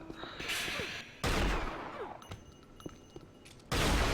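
Gunfire from an Unreal Tournament duel on the Liandri map, with loud bursts of weapon fire opening and closing the stretch and sharper crackling shots and impacts scattered between them.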